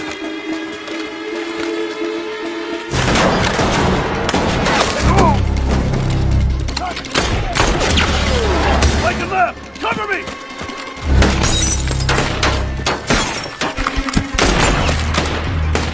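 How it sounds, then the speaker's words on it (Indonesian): A gunfight in The Walking Dead erupts after a quiet stretch, loud bursts of gunfire and booms layered with heavy rumbling and dramatic music, dense and close, with shouted voices mixed in. "Terjadilah baku tembak di sana."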